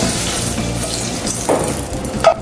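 Meat browning in a frying pan on the stove, a soft continuous sizzle with a couple of small clinks and stirring sounds near the end.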